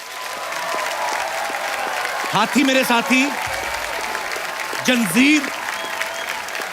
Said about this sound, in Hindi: एक एक फिल्म पे तालियां बनती हैं